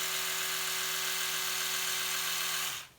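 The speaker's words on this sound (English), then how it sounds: "I'll show you whenever you turn your toothbrush on." An Oral-B 5000 electric toothbrush runs with a steady, loud, close buzzing whine for nearly three seconds, then switches off abruptly.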